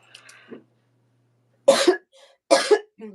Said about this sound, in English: the cough's still there a little bit